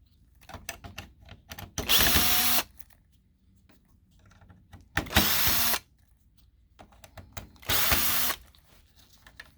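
A power screwdriver whirs in three short bursts, each about a second long, as four screws are backed out of a hinge, with faint clicks and handling between bursts and no speech.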